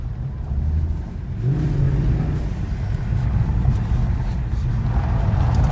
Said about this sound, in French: on va faire un petit tour avec le C63 coupé